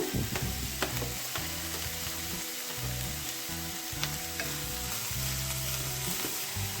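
Onion and green chilies fry steadily in a pan, a continuous close sizzle with occasional light crackles and faint stirring, no voices.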